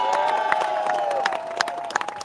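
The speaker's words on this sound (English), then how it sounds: "Will you please start clapping and cheering?" An outdoor crowd at a London rally protesting Trump's visit, organised with Stand Up to Racism, claps and cheers loudly, with sharp claps and shrill whistles over a sustained roar.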